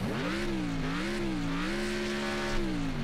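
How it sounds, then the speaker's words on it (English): A muscle car engine revs in the Wreckfest racing video game, a loud, steady rumbling drone whose pitch rises and falls in gentle waves and runs alone throughout. "Let's hear the revs on this."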